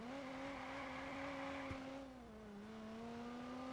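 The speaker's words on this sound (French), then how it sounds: "au moins entendre le crissement et le moteur d'une voiture" A car engine in the open-world game Watch Dogs holds a steady rising whine, dips briefly as it shifts, then climbs again, fairly faint and without voices.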